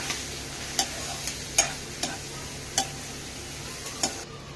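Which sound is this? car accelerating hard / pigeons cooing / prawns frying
prawns frying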